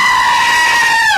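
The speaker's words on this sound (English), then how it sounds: "Screaming goats?" A screaming goat in a radio advert for a roofing and siding company lets out one loud, sustained, human-like scream that bends downward at the end.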